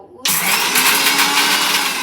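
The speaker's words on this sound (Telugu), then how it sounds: "నేను మిక్సీలో వేస్తున్నాను." A mixer grinder starts abruptly after a short quiet moment and runs at full, loud, continuous whirring power while grinding coriander seeds and turmeric.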